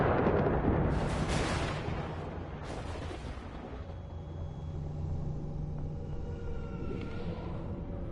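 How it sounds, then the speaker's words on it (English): Storm rumbling in the Death Stranding video game on PS5: a heavy low rumble with a loud broadband surge at the start, then a steady dark drone of distant thunderous roll with faint tonal hum. "Have we been pulled into this storm then?"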